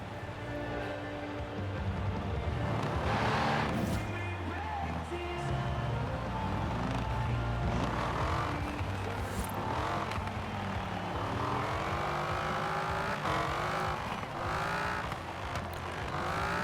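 Car engine driving in the racing game Forza Horizon 4, a steady continuous drone with shifting pitch sweeps as revs rise and fall, fairly loud throughout with no talking.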